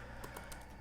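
Soft keystrokes on a computer keyboard while typing out The Great Gatsby, a few quiet, irregularly spaced taps heard close and alone.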